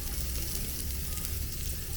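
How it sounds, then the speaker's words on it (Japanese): Continuous crackling sizzle of food cooking on a hot grill at a night market on Nusa Penida, Bali, loud and close, a dense steady hiss with no pauses. "本当にジュージューいってる"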